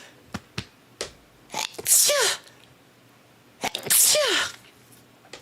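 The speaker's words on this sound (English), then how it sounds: "I'm gonna sneeze real quick." Two sharp sneezes about two seconds apart, each a loud burst of breath with a rising vocal squeal, close to the listener, with small clicks and breaths between.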